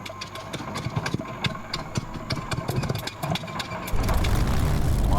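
A Spitfire Mk IXc piston engine in a flight simulator cranks and fires with uneven popping bursts, then settles into a steady, loud, rumbling idle.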